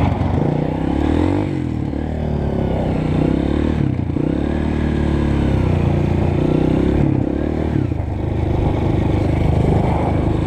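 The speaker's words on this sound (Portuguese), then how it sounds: "a embreagem dessa moto acabou," A Honda CRF 230 motorcycle with a worn-out clutch idles and runs roughly at close range, its loud engine drone steady throughout, with clattering and scraping mechanical noises mixed in and no talking.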